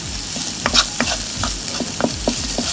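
Shellfish shells sizzle and fry in a pan with oregano, onion, salt and pepper for seafood pasta, with steady loud frying and several short scraping stirs of a utensil against the pan.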